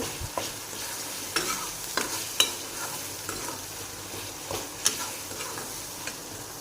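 Tomatoes sizzle in hot oil with salt and turmeric while a spoon stirs and scrapes the pan in irregular taps, close and fairly loud, with no talking.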